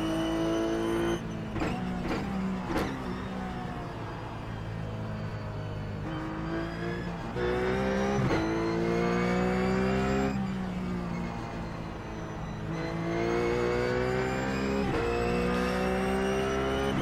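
Ruf race car engine in the iRacing sim at the Spa circuit, a loud continuous roar climbing and dropping in pitch through gear changes across the whole run, with no talk.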